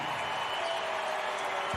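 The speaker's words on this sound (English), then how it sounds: "Let's hear the crowd." Basketball arena crowd roaring in the final minutes of an Iowa vs Maryland women's college game, a steady, dense wall of cheering and applause at fairly low level, with no commentary on top.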